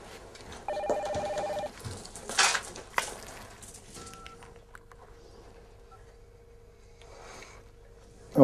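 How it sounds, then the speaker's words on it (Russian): A telephone rings indoors with a couple of short electronic tones, followed by a longer steady ring tone that holds for several seconds at moderate level, with no talk over it. "О, извините, звонят."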